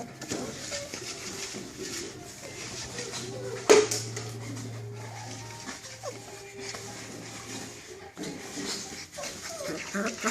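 Puppies fresh from a vet check whimper and yip, with thin whines and a sustained cry, close by under occasional human talk.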